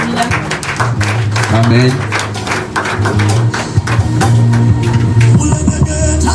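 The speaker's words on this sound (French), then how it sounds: "Par des acclamations nous allons recevoir les leaders" Applause and clapping greet leaders arriving at an evening prayer meeting, with dense crowd noise mixed with loud voices calling out throughout.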